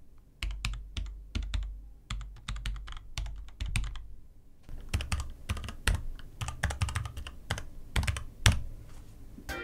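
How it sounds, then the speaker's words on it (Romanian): A SteelSeries Apex M800 mechanical keyboard is typed on in quick, uneven bursts of crisp keystrokes. The clacks are close and loud, with a brief lull midway before the rapid typing resumes. "Așa se aud switch-urile SteelSeries în comparație cu switch-urile mele brown de pe tastatura mea."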